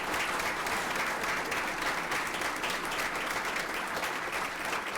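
Sustained audience applause for award winners at a school district fall awards ceremony, a dense, steady wash of many hands clapping throughout with no talk over it.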